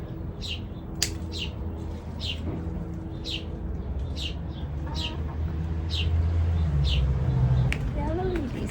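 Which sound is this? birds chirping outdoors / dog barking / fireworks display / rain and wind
birds chirping outdoors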